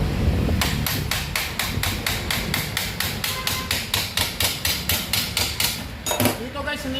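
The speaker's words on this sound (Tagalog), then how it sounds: "pupukpukin nyo lang kapag natanggal nyo yung 4 na tornilyo." Steady hammering on a 2017 Mitsubishi Mirage G4 alternator after its four screws are removed, a fast even series of about twenty sharp metallic knocks, close and loud, ending with a few clanks.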